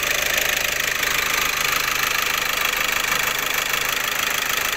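A car engine under EGR fault diagnosis runs steadily and loudly throughout, a continuous close-up mechanical drone with a rough, knocking texture and no clear rise in revs.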